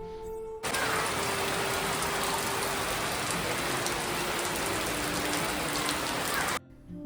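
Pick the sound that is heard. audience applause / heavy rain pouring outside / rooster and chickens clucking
heavy rain pouring outside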